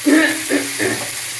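Colocasia (seppankilangu) pieces fry in a pan for a roast, a short close sizzle with a couple of soft stirring scrapes, loudest at the start and easing off.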